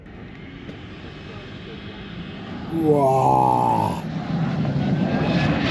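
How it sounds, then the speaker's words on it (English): A fan car on a race track at Laguna Seca, its fan spooling up into a loud rising whine that holds for a moment, with a steady roar underneath, close by, and a person briefly exclaiming. "When the fan spools all the way up, we're going to let go of the brake pedal and you're going to get launched."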